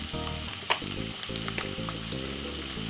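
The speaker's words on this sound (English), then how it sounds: "a little bit of white onion inside of the frying pan like this" White onion sizzles in olive oil in a frying pan, a steady close fry with occasional stirring knocks and bursts of crackle.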